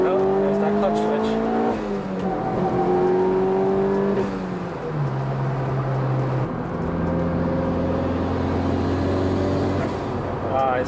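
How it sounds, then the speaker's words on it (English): A Mitsubishi Evo 9's turbocharged engine revs and pulls through gear changes while driving, its pitch climbing and dropping steadily with turbo whine, heard from inside the car. "Oh, this thing sounds so good. Got turbo noise."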